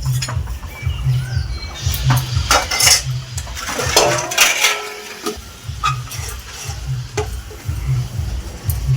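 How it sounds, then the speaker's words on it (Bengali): Dishes and utensils being washed by hand, with repeated clinks and clatters of metal pots and plates, close and fairly loud, under a regular low rhythmic background pattern and no speech. "এখন আবার বাসন বসেছি"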